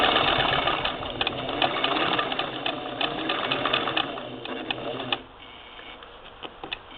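A 1947 Singer Model 66-16 sewing machine runs a straight-stitch seam with a close, even, fast mechanical chatter, then stops abruptly, leaving a few faint clicks.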